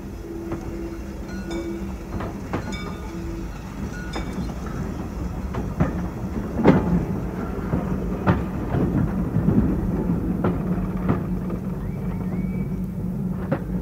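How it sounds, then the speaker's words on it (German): A train approaches around a bend in a 1953 German radio play, a steady heavy rumble with scattered metallic clicks and knocks that grows slightly louder and rougher midway, loud and continuous with no talk. "Man sieht den Zug nicht. Noch deckt ihn die Kurve."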